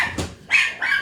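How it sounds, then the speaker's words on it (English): A dog barks at the mailman indoors, a quick run of two or three sharp, fairly close yips and barks in about a second, with no talking. "stop barking at the mailman"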